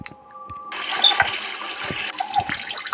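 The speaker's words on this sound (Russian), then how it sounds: "надо воду набрать" Water running from a tap as it fills a container in the horror video game Metel, a steady splashing rush that starts partway in and continues under faint clicks and game ambience.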